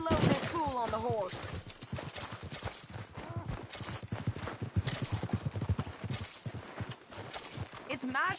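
Horse hooves clip-clopping in the video game Red Dead Redemption 2, a steady rhythmic clatter under nearly continuous talk, with a brief whinny near the start.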